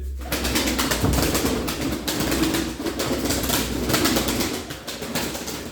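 Tumbler pigeons and their young in a loft, filling the space with dense, continuous cooing and rustling, loud and close throughout.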